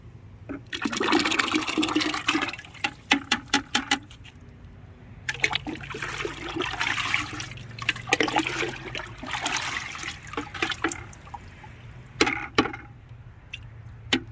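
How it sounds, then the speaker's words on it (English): Blended homemade fish fertilizer liquid poured into a bucket, sloshing and splashing in uneven bursts with brief pauses, close and moderately loud. "So now I'm just going to dump it in my bucket."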